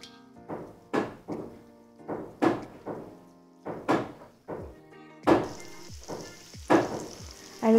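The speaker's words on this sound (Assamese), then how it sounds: "এতিয়া পিয়াজখিনি অকণমান ৰঙচুৱা হোৱালৈকে ভাজা হ'ব" Onions with a pinch of turmeric frying in a pan, heard as repeated loud sizzling bursts and clattering stirring strokes in a steady rhythm, close by and without speech.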